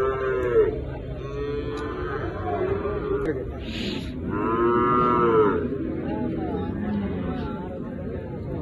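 Large butcher-grade cattle at a livestock market low in several drawn-out moos, near and loud, over a background of people bargaining and chattering.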